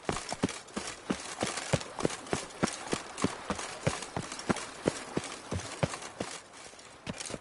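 Roach the horse gallops in The Witcher 3, steady rhythmic hoofbeats thudding in quick succession throughout, loud and close with no voices over them.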